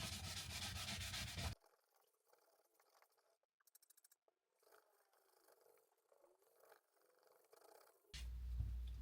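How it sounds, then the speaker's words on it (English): A brush scrubs the leather seat of a Ferrari 488 Spider, giving a soft, close rubbing and scratching texture with irregular strokes, framed by louder bursts of noise at the start and end. "I'm just giving the leather a really good scrub down."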